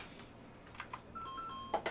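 A single key press on a Commodore 64 keyboard gives a short click, with a few more faint keyboard taps and a brief electronic tone nearby in a quiet room.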